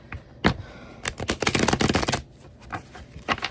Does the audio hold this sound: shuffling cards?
yes